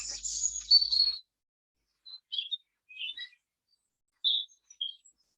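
Birds chirp in a hotel garden in Costa Rica, a long twittering phrase up close followed by scattered short, high calls separated by quiet gaps.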